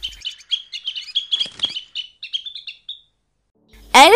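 Wild rosy-faced lovebirds in Arizona chirp in a rapid run of short, bright tweets for about three seconds, then go quiet before one loud, harsh call bursts in close by.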